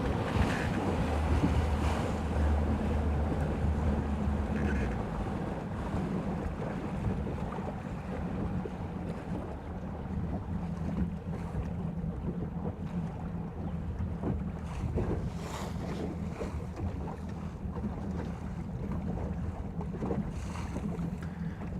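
Lake water at Lake Guntersville splashing and lapping against a small boat, with steady wind rumble buffeting the microphone and a constant low wash of waves throughout, no voices.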